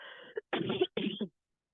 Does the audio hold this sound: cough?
yes